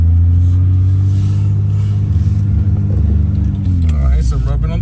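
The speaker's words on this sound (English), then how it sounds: "So in first gear, okay, nice little engagement on the clutch." A BMW 325i pulls away in first gear, its engine a close, steady droning hum that holds its pitch, then sags and wavers near the end.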